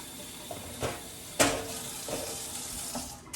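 Tap water runs steadily as broccoli florets are rinsed, with splashes and clatter of handling, fairly quiet and close.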